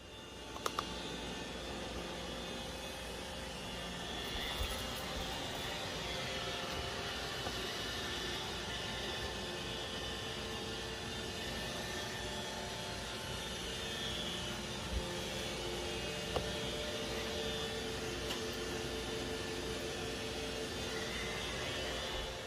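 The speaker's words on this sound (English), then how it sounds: "I'll tell Roomba J7 to vacuum the master bedroom." iRobot Roomba J7 robot vacuum running on a bedroom floor, a faint, steady broadband whir with a few soft clicks and no voices.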